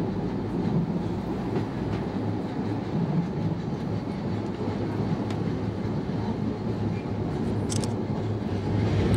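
A tram rumbles steadily close by, low rolling noise with faint clattering throughout and a brief high squeal near the end.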